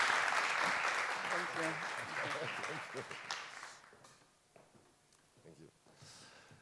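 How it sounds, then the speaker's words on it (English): Audience applause at a press conference for the Tiger Competition at the IFFR 2020 film festival, loud and dense for about three seconds, then thinning and fading out as people start talking. "please a round of applause for Kim Yonghoon."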